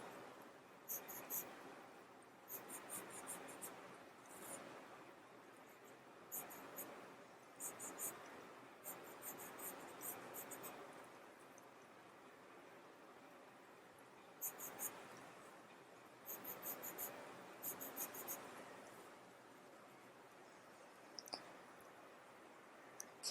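A pencil scratches across paper while drawing a border on a Zentangle ornate square, soft rhythmic strokes in short repeated bursts with pauses, close and quiet.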